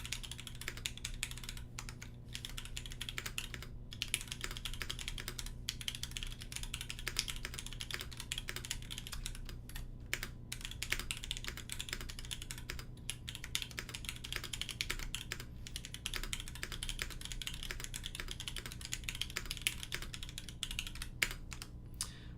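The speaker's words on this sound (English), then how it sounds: "let's give this a bit of a sound typing test" Someone types steadily on a rebuilt Melody 96 mechanical keyboard, close and clear, with rapid clicky keystrokes and occasional pauses, no voices.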